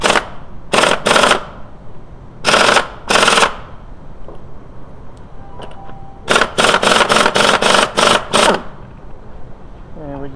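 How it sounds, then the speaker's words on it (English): A pneumatic impact gun loosening the crankshaft bolt on a VW A4 1.9L BEW TDI, several loud close bursts of rapid hammering in groups, separated by quieter gaps. "If you have an air gun, that should break it loose."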